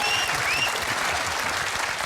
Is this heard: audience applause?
yes